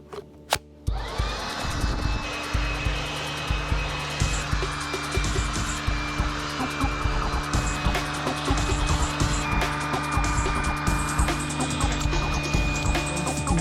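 A Dinshare 20V cordless leaf blower that also vacuums starts with a click, then runs steadily with a high whining motor tone and rushing air, loud and close, with no talk.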